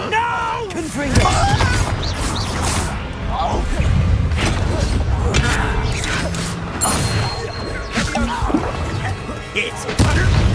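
Confringo blast spells strike in Hogwarts Legacy, sounding as thudding, crashing impacts and whooshes within busy, continuous combat noise, with a voice talking over the fight.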